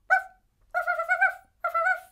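A child imitates a puppy barking, giving three short, high yipping barks with a brief pause between each.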